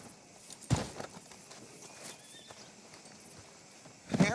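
Horse walking in the Red Dead Redemption 2 video game, soft irregular hoof clops with a louder step near the start and another near the end, quiet background between.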